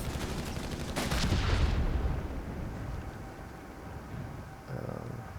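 Battlefield combat in Company of Heroes 3 while a machine gun nest is cleared, with a dense rumble of gunfire and explosions, loudest in the first two seconds and then fading to a low sustained din with a late thump.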